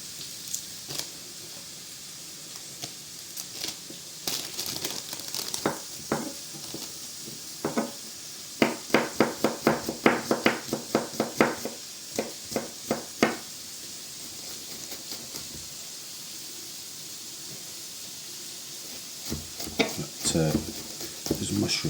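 Mushrooms fry in a pan for a bacon and mushroom baguette, a soft sizzle under bursts of clattering stirring that grow busier in the middle, then ease off before picking up again.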